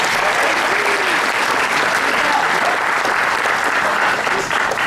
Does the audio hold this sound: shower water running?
no